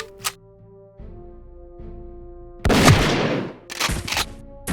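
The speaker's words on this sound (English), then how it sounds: "That was automatic buckshot for ya." An automatic shotgun firing buckshot in Jagged Alliance 2: one sharp shot, then a loud rapid burst of close blasts with another quick volley trailing after, over a low steady game hum.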